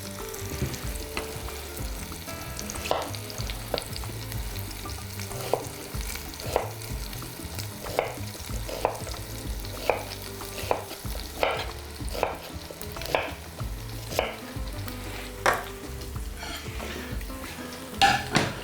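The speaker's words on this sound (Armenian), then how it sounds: "Մսակտորը կարմրացնելուց հետո հանում ենք ափսեի վրա" Meat pieces browning in oil in a pan for a tender beef dish in red wine sauce, a steady close sizzle with repeated clinks and scrapes of a utensil stirring against the pan, no voices.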